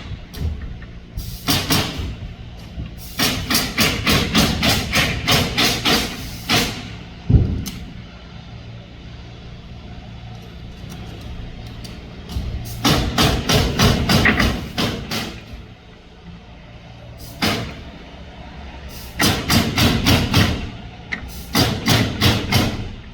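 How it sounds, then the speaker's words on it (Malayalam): Nail gun fastening plywood sheathing onto a house under construction in America: repeated fast volleys of sharp rapping shots, each burst several seconds long, separated by quieter gaps with occasional single thuds. "ആണി അടിക്കണമല്ല, മെഷീൻ വെച്ചിട്ട് അടിക്കുകയാണ്."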